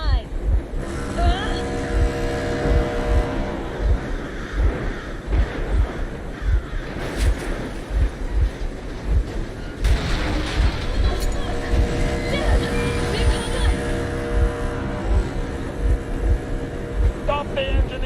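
A motorboat engine idles and chugs steadily in the Metro Exodus game world, a low rhythmic throb that runs the whole time, with crows cawing over it and a voice now and then.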